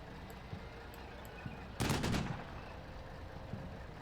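A .50 cal machine gun fires one short rapid burst in the Combat Mission Black Sea video game, a loud cluster of shots midway through, set against faint background noise and a few scattered distant pops.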